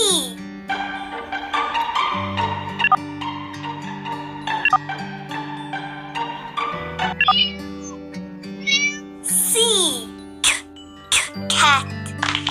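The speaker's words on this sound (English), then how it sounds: "Cat." Cat meowing from an animal-sounds sequence, a few short high meows late in the clip over a light tinkling musical backing with brief vocal sounds.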